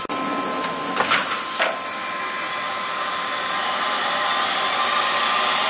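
Air-actuated jaws on a machine open and close with a short burst of hissing pneumatic air, loud and close, over a constant mechanical hum that carries on steadily afterward.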